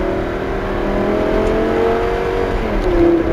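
A Lamborghini LP560 Spyder's 5.2-litre V10 with e-gear transmission drones loudly and steadily up close, its pitch rising, then dropping briefly for a gear change before climbing again near the end.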